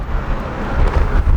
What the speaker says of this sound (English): it's a very windy day today, probably not gonna be able to get you guys an exhaust clip